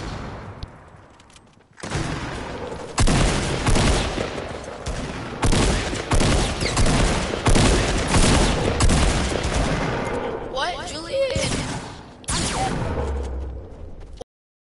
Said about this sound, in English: now you can shoot him